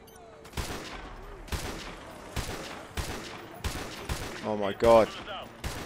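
Repeated bursts of gunfire in Modern Warfare 2 Remastered, sharp shots spaced about a second apart, with a voice exclaiming briefly near the end.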